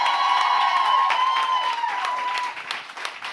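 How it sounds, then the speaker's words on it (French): A studio audience at a Quebec talk show recording applauds the arriving guests with steady, dense clapping and some cheers, easing slightly in volume near the end. "On les applaudit, s'il vous plaît"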